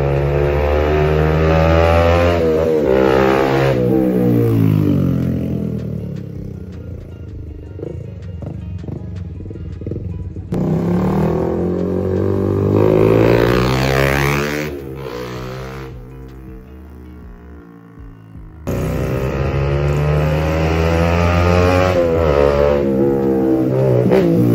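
A Suzuki GSX-R150 motorcycle fitted with a Villain Carbon Series 370 full-system carbon exhaust revs loud and close in three long bursts with rising and falling engine pitch, broken by two short drops in level.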